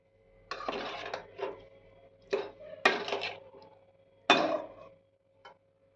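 Vegetables and paneer are stirred in a pan while cooking paneer yakhni. A spatula makes several separate bursts of scraping and clattering, loud and close, with quiet gaps between them.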